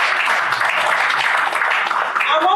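An audience at a panel discussion on Nigerian labour force statistics claps for a panelist, giving a short burst of dense, steady applause close at hand, with a voice coming in near the end.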